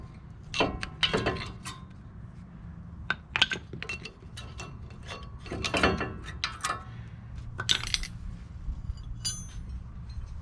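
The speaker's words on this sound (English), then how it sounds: "Removing the two caliper mount bolts. This is a 19mm bolt." A ratchet works loose the 19mm caliper mount bolts on a 2010 Nissan Frontier SE, giving several close bursts of quick metallic clicking separated by short pauses, over a low background hum.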